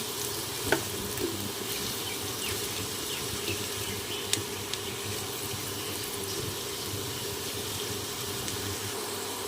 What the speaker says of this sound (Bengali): আলু ভাজা হয়ে গেছে